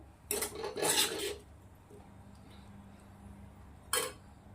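A spoon scrapes and clinks against cookware while paneer chilli starter is served into a bowl: one long burst of metallic scraping, a quiet pause, then a short final scrape.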